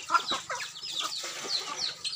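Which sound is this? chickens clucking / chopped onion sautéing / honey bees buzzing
chickens clucking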